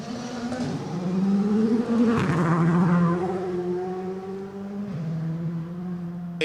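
A rally car engine whines past on a special stage of the Gippsland Rally with shifting pitch, swelling loud then easing as it accelerates by at speed, no voices.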